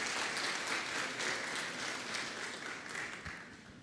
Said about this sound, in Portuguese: Nós queremos pedir uma salva de palmas para o doutor Naor.